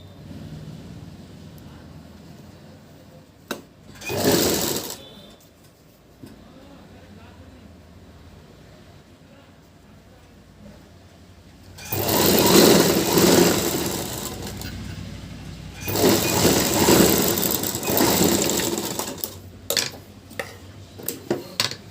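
A sewing machine stitches a blouse in short bursts: one brief run, then two longer whirring stretches, close and fairly loud, with quiet gaps and a voice talking between the runs.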